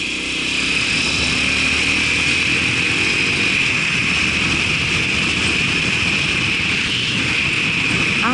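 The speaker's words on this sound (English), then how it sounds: "the nice Aprilia RS125 Extrema in orange" An orange Aprilia RS125 Extrema motorcycle rides by on the road, heard as a continuous buzzing engine drone with a high tonal whine over steady wind and road noise, close and fairly loud, with no speech.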